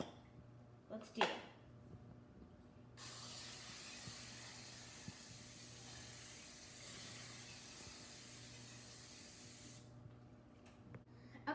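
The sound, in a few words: spraying a lasagna baking pan with cooking spray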